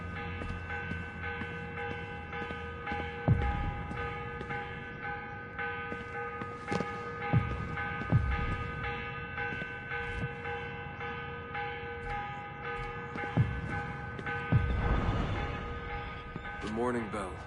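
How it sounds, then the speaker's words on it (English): Morning church bell in Assassin's Creed Revelations tolling a few times over a steady drone with harmonic hum, strikes spaced several seconds apart at moderate loudness. "The morning bell."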